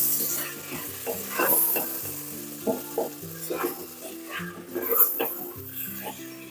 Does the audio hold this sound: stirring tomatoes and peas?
yes